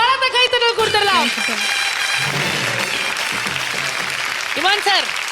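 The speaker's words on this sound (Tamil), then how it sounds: "மாதவியின் டீமுக்காக ஒரு பலத்த கைத்தட்டல் கொடுத்துடலாம்." A studio audience on a singing competition stage applauds in a steady wash of clapping while a host speaks over it, with music at the edges.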